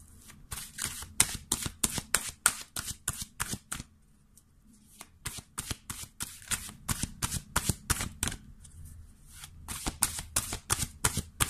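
Cards are shuffled by hand in a quick run of crisp riffling flicks, then stop for a moment before two more bursts of rapid shuffling. The sound is close and carries no voices.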